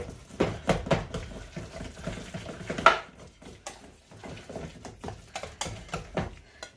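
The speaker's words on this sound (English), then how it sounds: "I'm going to grab a whisk to kind of mesh it up a little bit more." Mashed bananas for banana oat muffins are whisked in a bowl, producing uneven clacking and tapping knocks close by with quieter stretches between.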